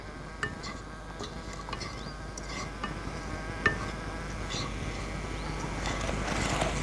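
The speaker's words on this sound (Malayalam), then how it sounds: "ഇപ്പം നമ്മൾ വഴറ്റിയെടുക്കുകയാണ്." Something for an egg roast sautés in a pan with a low, continuous sizzle, a few faint scrapes of a stirring utensil, and a buzzing, insect-like hum running underneath throughout.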